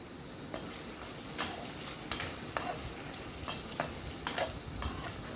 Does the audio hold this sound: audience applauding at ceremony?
no